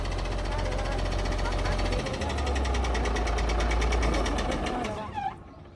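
A motor grader's heavy diesel engine runs steadily with a deep low rumble and rattling knock, close by, before easing off near the end.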